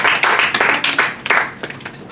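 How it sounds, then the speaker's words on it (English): Audience applause at an intimate salon gathering after a poetry reading, a loud close burst of many hands clapping that thins out into scattered claps. "Let's have another round of applause"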